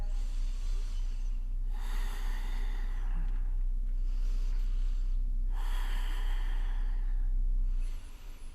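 Deep yoga breaths during a gentle sunrise session, with two long airy exhales through the nose about four seconds apart, breathy and close, over a steady low hum.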